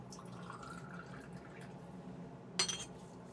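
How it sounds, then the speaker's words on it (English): Concentrated ammonium hydroxide is poured into a glass transfer beaker in a chemistry lab, a soft trickle followed by a brief brighter splash near the end, close and quiet, with no talking. "Pour it in my transfer beaker."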